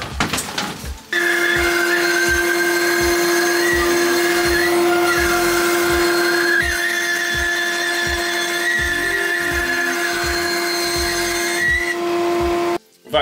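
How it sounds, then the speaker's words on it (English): A bandsaw cuts out a wooden bread board. Its steady, loud motor hum carries a strong tonal whine and a regular low pulsing, running continuously for about twelve seconds before it stops abruptly. "Let's go cut that on the bandsaw."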